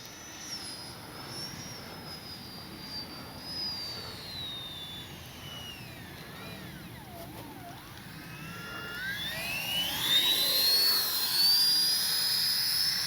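An E-flite 64mm Viper RC jet flies overhead, its electric ducted fan giving a steady high whine that sweeps in pitch as it passes slowly, then swells louder and higher near the end, with no talking.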